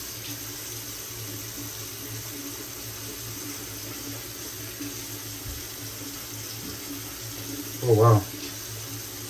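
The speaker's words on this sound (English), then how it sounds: "let me go ahead and start incorporating some water here" A bathroom tap runs steadily while Nivea Men Sensitive Calm shave cream is lathered, a constant soft hiss throughout, broken near the end by a short spoken exclamation.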